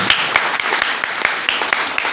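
A live audience claps together for newly arrived guests, producing a steady wash of applause with scattered sharper hand claps throughout.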